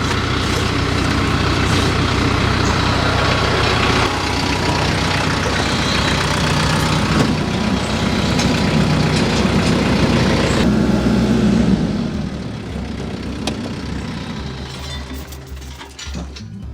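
A 474 tractor engine idles at a portable sawmill with a loud, steady, heavy diesel rumble and some metallic clinking. Near the end the drone drops and thins out as the engine settles lower.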